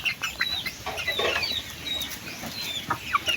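Pet chickens, including young ones about three months old, cluck and cheep repeatedly at feeding time, several birds close by with overlapping short calls and no talking.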